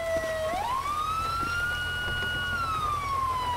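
Police car siren in the FiveM video game, a loud close wail that sweeps upward and holds a long high tone before sliding back down, sounding alone without talk.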